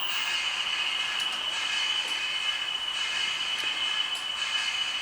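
A Bachmann Class 20 model diesel locomotive running on a weedkiller train, giving a steady, continuous mechanical hum with a high whine and a few faint clicks throughout.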